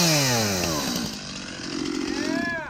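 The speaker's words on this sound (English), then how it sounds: "He just bought this new chainsaw." A newly bought chainsaw runs loud and close, its engine pitch rising and falling through revs in the aftermath of a hurricane, with a voice briefly audible under the whine.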